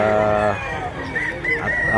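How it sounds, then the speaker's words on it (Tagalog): Gamecocks at a cockfighting rooster farm in Mantalungon, Cebu, crow loudly nearby, one long crow followed by shorter calls and clucks over a busy outdoor background. "Dami pang manok dito mga idol."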